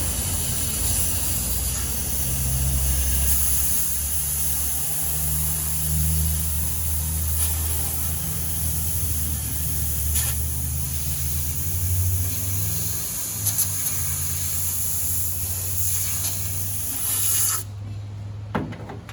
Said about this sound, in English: And then even take your air blower.